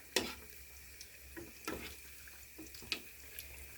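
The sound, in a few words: dough pastries deep frying in oil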